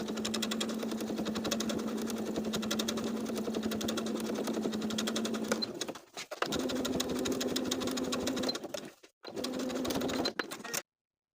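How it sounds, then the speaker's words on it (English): A sewing machine running steadily while understitching bias tape to the seam allowance of a dress armhole, a constant fast motor whir with two short pauses before stopping. "sewing the bias tape to the seam allowance underneath all the way around with about 1/8 inch seam allowance"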